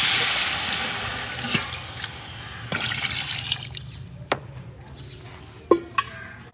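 Water pours into a cooking pot of fried spices with a steady rushing splash that fades, followed by a few sharp metallic clinks of utensils against the pot, close up with no talk.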